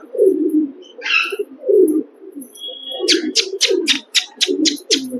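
A Lalsara Chennai breed pigeon coos in repeated low, rolling phrases close by, while quick high chirps pulse in a rapid series near the end.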